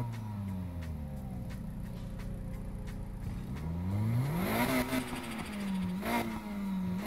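A twin-turbo Nissan S14 in Need for Speed Heat idles with a steady engine tone, then revs up sharply in rising and falling sweeps, loud and close, with a faint ticking rhythm underneath.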